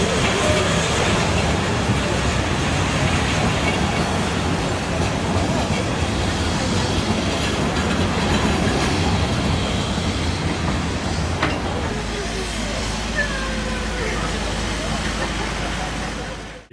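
A Welsh steam train rumbles steadily past close by, with continuous clattering and mechanical noise for the whole stretch and a brief squeal near the end.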